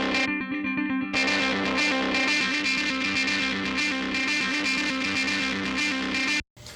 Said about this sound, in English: it has a really nice crunchy tubey vibe to it that's pretty nuts.